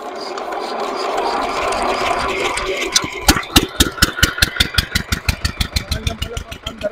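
An irrigation water pump engine on a farm field in Cabiao, Nueva Ecija starts after a few seconds of background noise, then settles into a loud, close, steady rhythmic chugging. Voices are faintly present early on.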